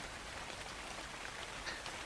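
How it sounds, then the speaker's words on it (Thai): Heavy rain pours steadily in ARK: Survival Evolved, a dense, even hiss of falling water with no pauses, moderately loud and heard on its own. "ฝนตกหนักเลย"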